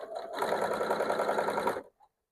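A sewing machine stitches quilt panel pieces for a 3D illusion panel quilt: one steady, close burst of rapid stitching lasting under two seconds, then it stops abruptly.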